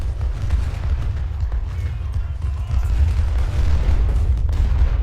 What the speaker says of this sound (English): Cannons are firing off